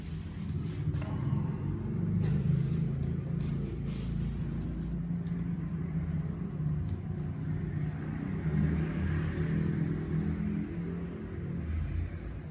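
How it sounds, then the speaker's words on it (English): Steady low traffic rumble from outside a hotel room, with motorbike engines droning and occasionally swelling as they pass at a distance. "So our hotel room, you can probably hear all the motorbikes going off."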